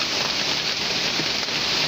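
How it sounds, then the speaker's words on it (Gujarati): Heavy rain pours down over Valsad city in Gujarat, a steady, dense and continuous hiss of downpour close by with no speech. "વલસાડ શહેરમાં આજે સવારથી જ ભારે વરસાદ વરસ્યો છે"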